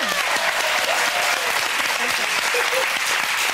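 Studio audience applause on a daytime talk show, a dense, even burst of clapping throughout with no breaks.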